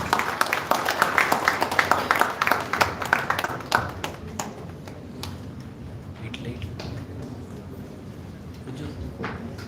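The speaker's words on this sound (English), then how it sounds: "Give them a big round of applause, please." An audience at a college event gives a round of applause, dense clapping for about four seconds that thins into a few scattered claps and quiet hall noise.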